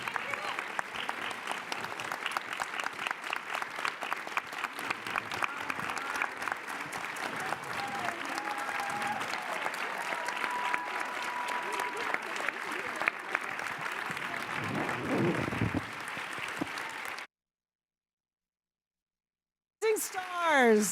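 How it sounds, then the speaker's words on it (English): Long, steady audience applause for a panel of award nominees, dense clapping from a large crowd lasting many seconds, with a few voices underneath before it cuts off briefly and resumes. "Please give this extraordinary panel of women a big round of applause"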